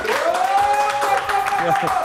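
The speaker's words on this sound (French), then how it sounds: "On les applaudit très très fort." A studio audience applauds Vincent and Mathilde, actors from the play Much Ado About Nothing, on a French talk show, with steady, lively clapping under voices and a sustained musical tone.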